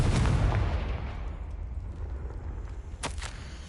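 A Confringo spell blast goes off in a video game, a loud booming explosion that rumbles and decays, followed by a sharp crackling burst near the end.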